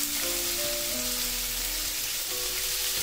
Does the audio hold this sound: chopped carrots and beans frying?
yes